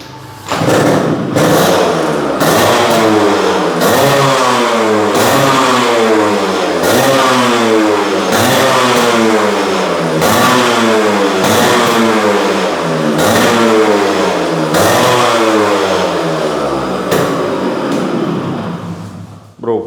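Yamaha RX two-stroke motorcycle starting, then revved repeatedly in loud rising and falling bursts, a sharp buzzing exhaust note close by that continues for about twenty seconds.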